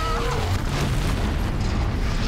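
An explosion in the video game Bloodborne, a heavy booming burst with a rumbling tail that fills the moment, loud and close over the game's background noise.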